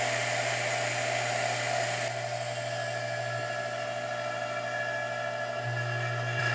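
A vacuum pump drones steadily and loudly while evacuating a Harbor Freight paint pot converted into a vacuum chamber, a continuous whine with a low hum that shifts slightly partway through.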